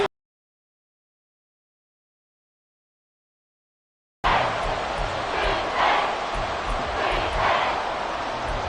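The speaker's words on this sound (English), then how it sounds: "This crowd turning up the decibel level." A football stadium crowd roars loudly and continuously after a sudden start, a dense wash of massed voices that swells and surges in waves.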